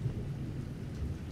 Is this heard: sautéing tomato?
no